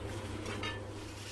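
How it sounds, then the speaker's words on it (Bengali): Dhoka fries lightly in a little oil in a pan, with a soft, faint sizzle and a faint clink of a utensil, no voices. "একটু হালকা করে ভেজে নিচ্ছি, কম করে তেল দিয়ে"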